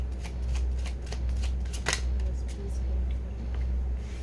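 Tarot cards shuffled and drawn by hand, a run of soft riffling flicks and slaps with one sharper snap near the middle, over a steady low hum.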